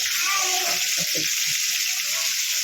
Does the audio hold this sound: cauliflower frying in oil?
yes